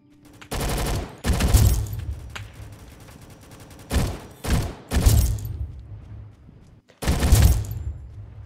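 Gunfire in the Roblox game Rolling Thunder comes in loud, close bursts of rapid shots separated by short pauses, with heavy booming thumps in each volley.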